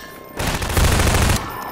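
Gunfire in the Half-Life 2 video game: a dense, loud burst of rapid shots lasting about a second, rising sharply out of quieter game ambience and then dropping back.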